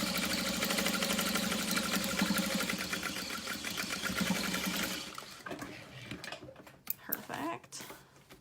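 A sewing machine stitches a small wristlet in a fast, rhythmic run for about five seconds, then stops, followed by quieter clicks and handling sounds with some speech.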